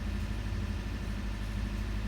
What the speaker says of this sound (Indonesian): Mesin scraper atau mesin heater kita matikan.